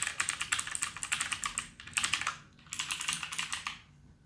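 A Blackweb mechanical gaming keyboard clatters under rapid, continuous keystrokes in bursts separated by brief pauses, the crisp clicks close and alone without any talking.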